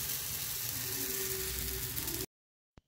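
Steady sizzling of patisapta batter poured into a hot pan, a close, even hiss that runs without a break before cutting off into near silence with a couple of faint clicks.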